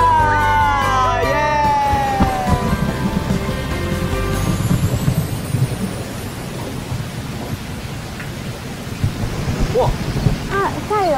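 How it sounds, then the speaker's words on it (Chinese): A sudden rain shower falls with thunder in a drama scene, a steady hiss of rain under low rolling rumbles, with brief tonal sounds at the start and faint voices. "怎么突然下雨"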